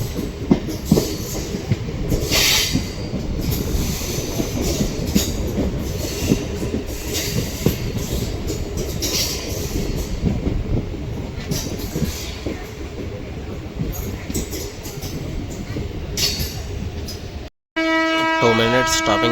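A MEMU local train running from Bengaluru to Dharmavaram, with a continuous loud rumble and rattle of the carriages and rhythmic wheel clatter, heard from on board, before a brief dropout and a change in sound near the end.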